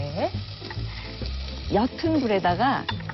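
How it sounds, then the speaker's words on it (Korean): Onion sizzles in coconut oil in a pan on low heat with a steady frying hiss, joined by scraping stirring noises and clattering against the pan. "그래서 우선 제일 먼저 볶을 게 양파를 우선 넣고 볶는 게 중요해요."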